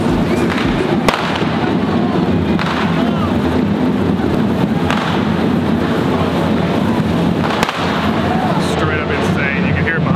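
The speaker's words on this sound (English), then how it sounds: "There's fireworks happening down there." Fireworks explode at a crowded Barcelona street festival, sharp booms and thuds bursting every second or two over a dense, loud roar of crowd noise and voices.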